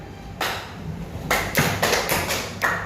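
Strong rhythm beats tapped on a surface with all five fingers and the hand: a short run of close, fairly loud thumping taps, unevenly spaced, with a dull body to each hit.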